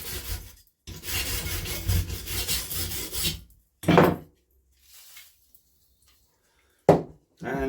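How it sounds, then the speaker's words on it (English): An old Briggs and Stratton 5hp engine's piston is sanded to clear off crud: close, steady rasping strokes for about three seconds, then a few short isolated scrapes separated by silence, with no talking. "She has got some crud. Let's just give her a sand down."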